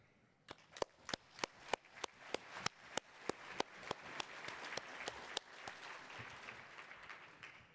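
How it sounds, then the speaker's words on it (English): Applause at a First Nations cancer gathering in British Columbia honoring those on the cancer journey, starting as sparse distinct claps that build into a steady, moderately distant ovation. "to acknowledge them not in silence, but in applause for their courage"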